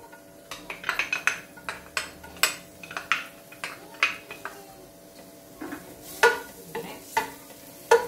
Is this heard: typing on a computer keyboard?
no